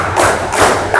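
Rhythmic group hand clapping from a classroom clapping game: three even, soft-edged claps spaced about 0.4 seconds apart, close and without speech.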